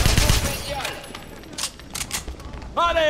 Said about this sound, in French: Une mitrailleuse SD-42 nous empêche de passer